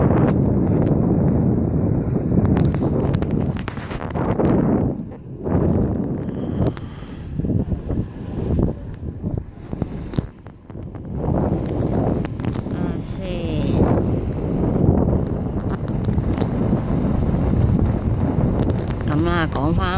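Strong wind buffets the microphone during a boat ride on Lake Ashi in Hakone, a loud, continuous rumbling roar with gusty swells, with people talking over it at times.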